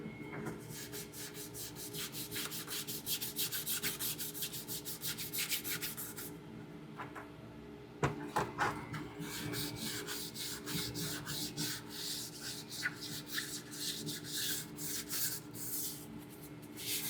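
120 grit sandpaper is rubbed by hand over a painted surface in quick, close, rhythmic strokes, with a short pause and a sharp knock partway through.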